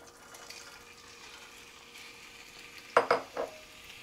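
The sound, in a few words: shrimp sizzling in a pan with truffle olive oil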